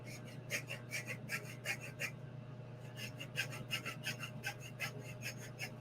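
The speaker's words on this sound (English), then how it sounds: "I'm just going to cut a little bit of the gear cover away." A hand saw cuts through the plastic gear cover of a Redcat Vigilante RC car in a quick series of raspy back-and-forth strokes, close and faint, with a steady low hum underneath.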